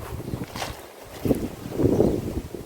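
Strong wind sweeps through an outdoor garden, battering the microphone with low, rumbling gusts that rise and fall over a few seconds, with no talking.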